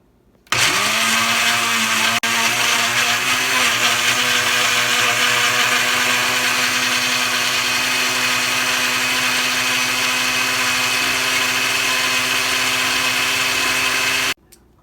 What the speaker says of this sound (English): Okay, so we have the blender.